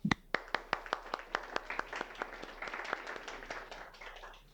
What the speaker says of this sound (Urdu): آپ کسی کے لیے نہیں, اپنے لیے تالیاں بجائیں پلیز